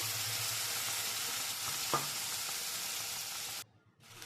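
Bengali spice paste of ground coriander and cumin with onion and tomato sizzles steadily and loudly in a pan for an egg curry, with a brief stir midway before the frying drops suddenly near the end.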